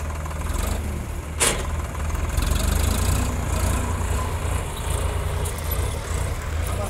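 A Mahindra 265 DI XP Plus tractor runs a 7-foot rotavator, its diesel engine droning steadily and loudly at constant speed, with a brief sharp knock partway through.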